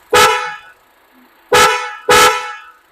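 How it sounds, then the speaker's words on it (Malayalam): Three loud honks from a newly fitted dual horn on a Kia Seltos: one longer blast, a pause, then two shorter blasts close together, close by with no talk. "ഈ സിറ്റുവേഷനിൽ നമ്മൾ ഹോൺ അടിച്ച് നോക്കുകയാണ്"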